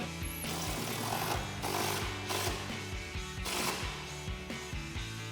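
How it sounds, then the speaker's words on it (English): Impact wrench with a 13mm socket tightening grille guard bolts on a 2021-2023 Ford F-150, hammering in rapid pulses for a few seconds, close and loud. "Then we'll tighten this down with our 13mm socket on our impact"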